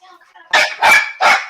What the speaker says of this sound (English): I don't know what's going on with these dogs, but they are driving me crazy right now.